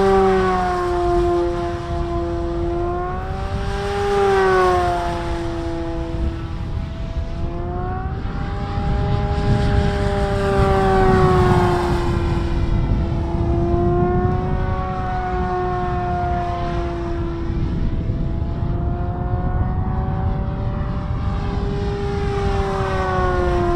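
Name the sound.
RC model airplane flying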